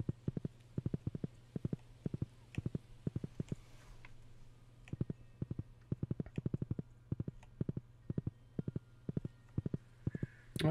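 Horse hooves clip-clop steadily in the Stardew Valley farming game, a fast, even run of crisp close hoofbeats that carries on alone for the whole stretch over a low hum.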